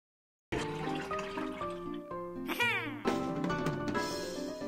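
In a video game, water drains away after a stone is lifted: after a moment of silence, a busy stream of gurgling, rushing water sets in, joined by rising tonal sweeps, fairly faint and with no talk.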